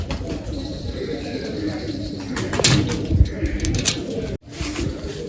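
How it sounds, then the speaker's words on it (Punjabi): A pair of pigeons, a black-spotted male with his female, coo softly in a loft, low throaty rolls repeating close by while someone speaks over them. "ਕਾਲੇ ਟਿੱਕੇ ਵਾਲਾ ਕਬੂਤਰ ਆ ਤੇ ਆ ਕਬੂਤਰੀ ਨਾਲ"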